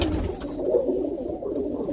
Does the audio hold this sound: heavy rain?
no